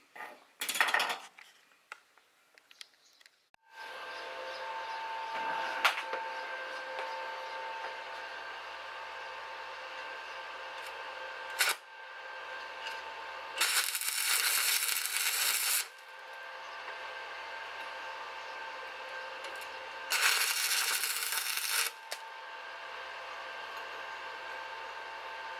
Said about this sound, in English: now we're going to do a weld on there